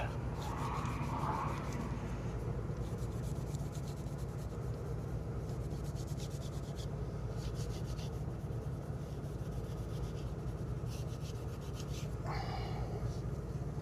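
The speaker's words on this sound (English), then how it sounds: "And scuff everywhere I just sanded. It's a 1500 grit scuff pad." A 1500 grit scuff pad rubs across a sanded silver painted wheel rim, giving a steady, soft abrasive scrubbing that runs close and continuous with no pauses.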